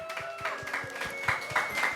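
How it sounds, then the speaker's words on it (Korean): Small gathered group in a worship service claps for one team, a faint rhythm of soft, distant hand-claps with a sustained tone lingering underneath. "이쪽 조에게 우리 박수 한번 줄까요?"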